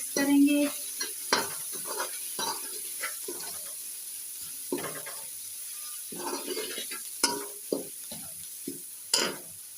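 Whole chillies, turmeric and salt roast in a pan as a spoon stirs and scrapes in uneven strokes over a soft continuous sizzle, close and moderately loud, with no voices.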